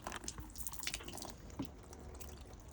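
Water sprinkled onto the paintwork of a Fiat 500 before clay-bar detailing, heard as soft, scattered patters and drips that continue steadily at close range with no talking.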